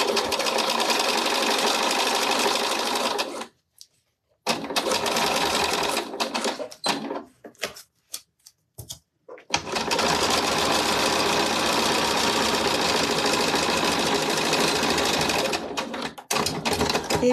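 A sewing machine runs fast and steady while stitching a fabric pouch, a dense whirring, buzzing rattle that stops briefly around the middle with a few short pauses, then carries on unbroken to the end.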